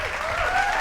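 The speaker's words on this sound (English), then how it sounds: "why don't you welcome him with a round of applause" Audience applause welcoming a guest onto a talk show, a dense wash of clapping that stays steady and fairly loud for its brief length, with a faint whistle-like tone running through it.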